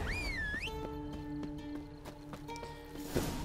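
Horses ridden in The Witcher 3 give off a string of hoof clops and knocks at a moderate distance, sounding under sustained musical tones, with a whinny-like rising cry at the start and a loud thud at the end.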